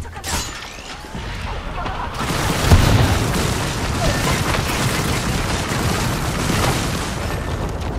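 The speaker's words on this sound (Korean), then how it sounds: "수류탄 도착한다." A grenade detonates in Apex Legends with a loud, booming blast a couple of seconds in, followed by a sustained rumbling roar and crackling debris that fills the rest of the moment.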